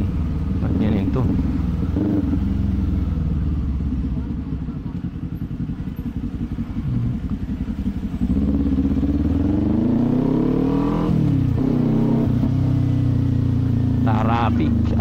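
A Kawasaki Z400 motorcycle riding through traffic, its engine rumbling steadily and loudly up close, rising and falling as the rider revs and eases off, with traffic around.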